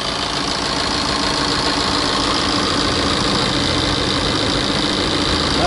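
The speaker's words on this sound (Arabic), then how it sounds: "هذا الموتور يخدم" A Tata Xenon 2.2 DiCoR diesel 4x4 engine idles close and steady, a loud continuous clattering hum with no change in pace and no voices.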